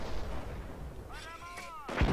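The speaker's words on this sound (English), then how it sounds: "Mortar ordered to fire." A mortar firing in the World War II strategy game Company of Heroes, a faint distant thump and rumble amid battle noise, followed by a short rising whistle and a sharper burst near the end.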